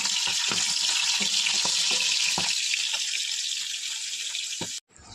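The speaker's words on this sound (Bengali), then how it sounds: "আর কটুকু পমপ্লেট আছে, ওগুলো ভেজে নেবো।" Pieces of pomfret fish frying in a pan, a steady loud sizzle with small clinks and stirring knocks, cut off abruptly at the end.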